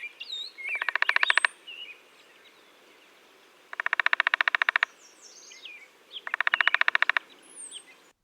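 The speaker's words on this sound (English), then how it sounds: "Downy woodpeckers also drum, and it's said that their drumming is slower than most North American species." A downy woodpecker drums in three separate rapid bursts of evenly spaced taps, each lasting about a second, while other birds chirp and tweet faintly around it.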